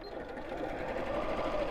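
A home sewing machine set to a small stitch length of 2.2 runs in a steady, fast, close whirring stitch throughout, with no pauses and no talk.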